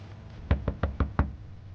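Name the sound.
police knocking on a door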